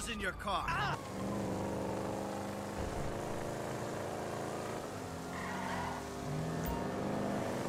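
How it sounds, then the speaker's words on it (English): Old cars driving past in GTA V, a steady engine drone with a changing pitch that swells and fades as vehicles go by, after a short burst of speech at the start. "Why are there only old cars driving through here?"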